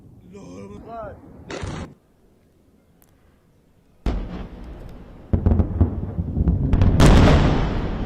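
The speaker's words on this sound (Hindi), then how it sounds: "बैलिस्टिक मिसाइल से हमला किया है, जिससे इन शहरों में काफी तबाही देखने को मिली है" Loud blasts and crackling bursts from an Iranian ballistic missile attack on Israeli cities, with a quiet gap midway, then rising, dense booming and roaring that swells toward the end, over faint voices.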